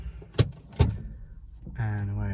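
An old electric car is shifted into drive and pulls away. Two sharp clunks come first, followed by a smooth, rising whine as the car moves off. A voice speaks briefly nearby.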